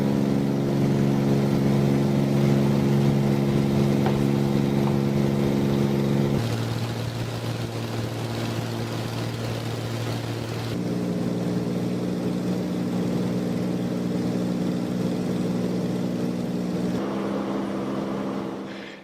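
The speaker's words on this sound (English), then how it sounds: "Tar runway, get airborne and start routing towards the lodge." A light aircraft roars steadily as it takes off from the tar runway at Maun, Botswana, its engine drone loud and continuous, shifting in pitch as it climbs away, with no talk.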